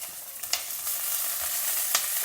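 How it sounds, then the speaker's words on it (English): Mustard seeds, cumin, green chillies and grated ginger stir-fried in hot oil for a quick poha breakfast, a bright continuous sizzle with a few sharp spoon scrapes and pops, no speech. "Stir fry everything."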